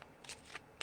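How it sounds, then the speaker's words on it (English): Angel Therapy oracle cards being shuffled by hand, a few quick, faint riffling flicks in close succession, alone and quiet. "I have shuffled the whole time I've been talking"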